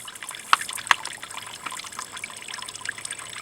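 A faint, steady trickle of water runs into a container, with two brief, sharper drips or splashes near the start and no talking.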